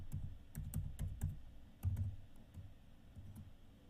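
Keys tapped on a computer keyboard while entering a SUMIF spreadsheet formula: a quick, irregular run of close, light clicks with short pauses between bursts, no voices.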